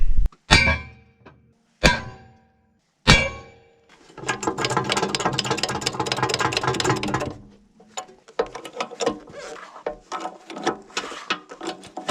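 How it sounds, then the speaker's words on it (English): Heavy pounding with a steel plate welded onto a chunk of jack post: three loud, spaced single impacts, then a sustained grinding scrape, followed by a run of quicker, lighter knocks, close and with no talking. "we'll try pounding on it with that"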